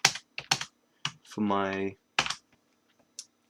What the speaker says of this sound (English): I'm going to start by just typing in a 0, 0